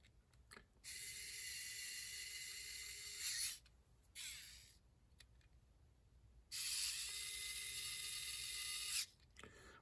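Fasteners being tightened one after another during the final assembly of a MkVI, heard as two long bursts of whirring, buzzing power-tool driving with clicks and short mechanical noises between them, fairly quiet and close, without talk.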